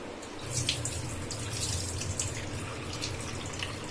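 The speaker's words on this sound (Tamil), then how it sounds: "இந்த திணை அரிசியில் ரெண்டும் சேர்த்து நல்லா கழுவிக்கிடலாம் உரசி உரசி கழுவி வடிகட்டி ஊற்றிடணும்" Foxtail millet rice being rinsed and rubbed in water, with close, fairly quiet sloshing and trickling, splashy bursts and drips, and no voices.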